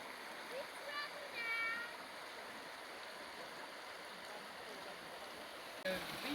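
A river stream flows steadily near a small beach in the hills of Edsåsdalen in northern Sweden, a constant broadband rush with faint bird calls and brief voices over it.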